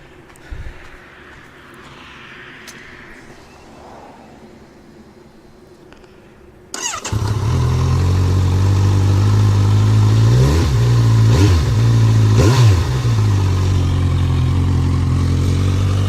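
A Kawasaki Versys 1000 motorcycle with a Delkevic exhaust, its baffle removed, starts up after a quiet stretch, then idles loudly and up close with several quick throttle blips revving the engine.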